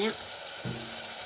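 Ingredients for a tofu chili stew sizzle and hiss steadily in a hot pan, a close, continuous frying sound with brief stirring noises.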